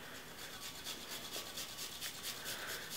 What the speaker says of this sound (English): So for this, I'm going to be using this microplane, which I believe is the second to smallest.